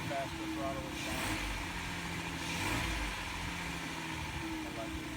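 A Jeep JK engine idles steadily after a fresh spark plug change, a low continuous hum with light throttle rises, running close by while people talk over it.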